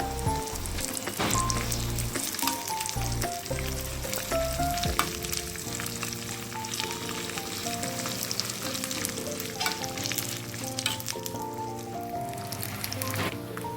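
Curry leaves fry in a hot pan with a dense, continuous crackling sizzle, close and steady throughout, for a coriander and curry leaf chutney; faint tonal background sounds run underneath and no one speaks.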